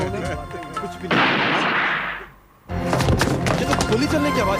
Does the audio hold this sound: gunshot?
yes